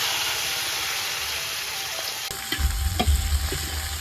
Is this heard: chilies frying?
yes